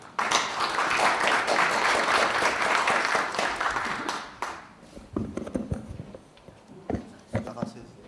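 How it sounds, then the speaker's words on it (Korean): An audience applauds to welcome a speaker at an academic conference of a world Korean community forum. The clapping is dense for about four seconds, then thins to scattered claps and fades. "홍 박사님을 박수로 모시겠습니다"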